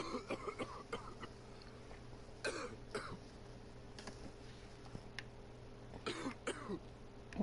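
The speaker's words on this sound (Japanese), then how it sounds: "めっちゃ咳してる" Coughing from a character in a mystery adventure video game: several harsh, dry coughs in short bursts over a faint steady hum, fairly quiet and close.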